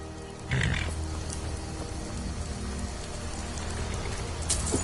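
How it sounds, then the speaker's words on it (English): Rain falls in the video game Skyrim as a steady hiss throughout, with a brief brighter burst early on and no talking. "Why is it always raining?"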